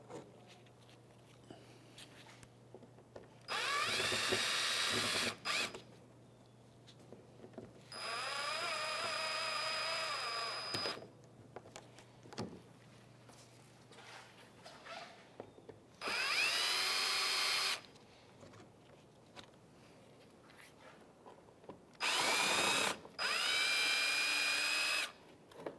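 A power drill with a Phillips bit spins out plastic bumper clips on a 2011-2016 Hyundai Elantra. Several short, close whirring bursts come in turn, separated by quiet pauses with small handling noises.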